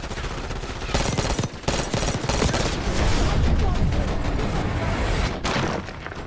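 Rapid automatic gunfire in the Black Ops 6 campaign pours out in dense, continuous bursts with short gaps, loud and close throughout.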